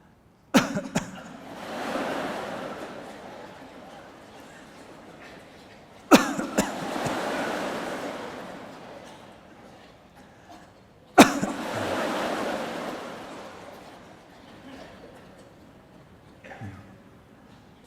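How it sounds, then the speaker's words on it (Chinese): Audience at a meditation gathering coughing, three separate bursts of coughs and throat clearing, each a sharp onset followed by a fading murmur of rustling and shifting, moderately far and fairly faint. "就咳嗽3次就可以了不是喉咙痒就不要总咳个没完。"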